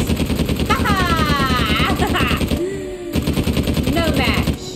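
Rapid automatic gunfire in the video game Uncharted 4, dense bursts rattling on with one short pause midway, loud and close, with a brief voice cutting in during the break.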